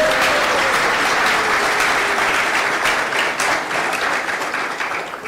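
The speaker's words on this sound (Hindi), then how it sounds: "तो जोरदार तालियों के साथ हम उनके इस" A crowd gives loud, sustained applause at a poetry book launch, a thick continuous roar of clapping that tapers slightly toward the end.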